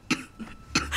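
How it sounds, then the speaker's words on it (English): Two sharp, close coughs from a patient in a hospital setting, with a brief gap and a softer throaty rasp between them, plus a faint room hum. "How long have you had that cough?"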